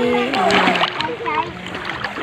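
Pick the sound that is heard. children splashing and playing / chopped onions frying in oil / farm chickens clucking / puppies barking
children splashing and playing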